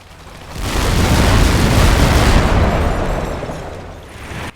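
Sherman tank shells exploding in the WWII strategy game Combat Mission Final Blitzkrieg, a loud, sustained rumbling blast that swells and slowly fades over several seconds, heard alone.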